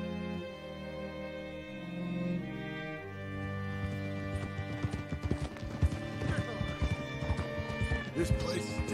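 Horse hooves clip-clop in a steady trot in the video game Red Dead Redemption 2, over sustained music, with a voice speaking partway through.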